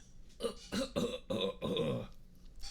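A series of about five short, throaty coughs in quick succession, close and fairly soft, with brief pauses between bursts.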